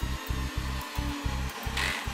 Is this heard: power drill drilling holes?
yes